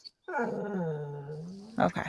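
A pet dog lets out a single long, drawn-out whimpering whine up close, sliding slowly in pitch, with a brief voice just before and after.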